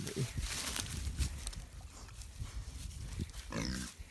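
Pigs grunt and snuffle close by amid rustling and scuffling, with a few squeals and snorts over steady outdoor noise.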